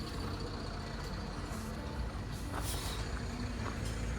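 BharatBenz truck pulling out of a workshop, a low diesel engine rumble with a hiss of air brakes and faint beeping, heard at moderate distance with no speech.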